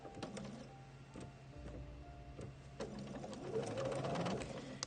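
A sewing machine stitching wrinkled fabric pieces for an art quilt, running in short whirring bursts with starts and stops, then a longer steady run, close and quiet.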